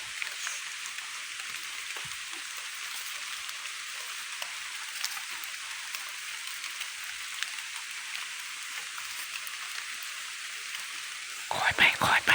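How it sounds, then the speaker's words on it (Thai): Steady rain falls through a forest, a dense high patter of drops on leaves that holds evenly throughout, with a brief louder burst of movement or rustling near the end. "ฝนก็ตก"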